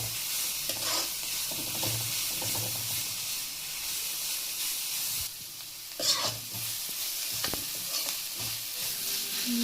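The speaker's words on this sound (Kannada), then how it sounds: "1/4 ಚಮಚ ಗರಂ ಮಸಾಲ ಪೌಡರ್ ಹಾಕಿ ಫ್ರೈ ಮಾಡಿ. ನೆಕ್ಸ್ಟ್ ಮಿಕ್ಸ್ ಮಾಡ್ಕೊಳ್ಳಿ ನೀಟಾಗಿ" Chilli powder and garam masala fry in oil in a pan for a beetroot sandwich filling, giving a steady close sizzle while a spoon stirs and scrapes now and then. No one speaks.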